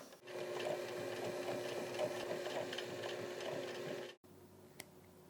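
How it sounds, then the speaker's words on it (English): Sewing machine stitching buttonholes in the back pockets of grey plaid trousers, a steady rapid mechanical whir running for about four seconds close up, then stopping abruptly, followed by quiet. "I do need to put in some buttonholes in the back pockets here."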